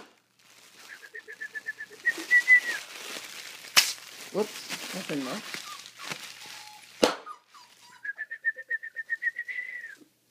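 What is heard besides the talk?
whistle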